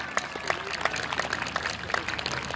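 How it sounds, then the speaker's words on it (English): Scattered, fairly faint applause from an outdoor audience at a 14th-century-style knightly tournament honours a winning knight, with sparse claps rising and falling in an uneven rhythm. "a round of applause for Ritter Keller"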